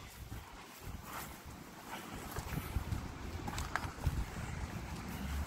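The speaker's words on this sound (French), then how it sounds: "Oh, ben, fort le vent." Strong, gusty wind blows on Remembrance Day, roaring and buffeting the microphone in a continuous rush that swells slightly louder toward the end.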